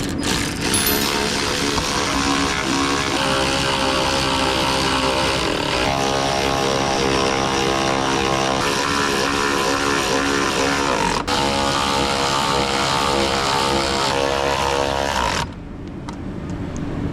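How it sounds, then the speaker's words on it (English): A power tool with a 10mm socket drives bolts back in, whirring loudly and steadily with shifting pitch as each bolt tightens, before stopping abruptly. "Start driving back all of our bolts in."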